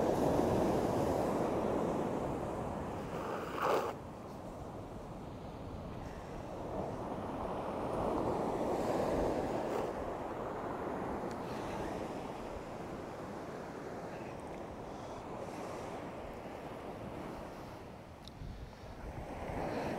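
Surf washes onto an East Coast beach at Easington in the UK, a continuous, fairly close roar of breaking waves that swells and ebbs over twenty seconds, with wind mixed in.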